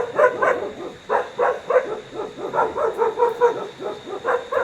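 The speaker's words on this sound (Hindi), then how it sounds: "ये जिस हिसाब से भौंक रहे हैं ना" Several dogs bark and yip repeatedly at night near a villa with a leopard prowling nearby, a steady chorus of overlapping barks at moderate distance over a constant high insect whine.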